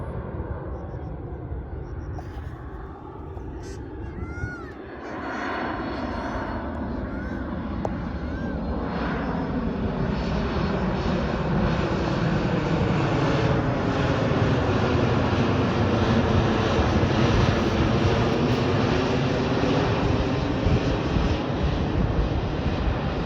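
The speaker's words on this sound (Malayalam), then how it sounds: "ഫ്ലൈറ്റ് വരുന്നത് കാണാൻ നല്ല രസം കേട്ടോ." An airplane passing overhead, seen from an outdoor spot used for horse riding, with its broad engine roar swelling and holding steady and loud through the whole stretch.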